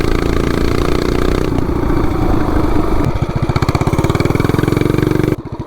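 A mini bike with a 420cc engine revs hard and accelerates, its loud, close motor roaring steadily before shifting into a rapid pulsing drone near the end.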